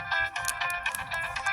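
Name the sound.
phone ringtone, incoming call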